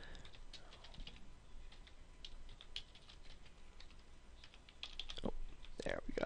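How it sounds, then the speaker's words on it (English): Light, irregular typing on a computer keyboard, clicks scattered close and quiet over a soft background, building to a denser burst of keystrokes near the end. "So I'm just going to go in here and type out some,"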